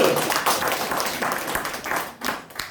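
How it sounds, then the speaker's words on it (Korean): Audience clapping for a speaker's first daughter about to start elementary school, a dense, steady patter of many hands lasting a few seconds, moderately loud and close. "박수!"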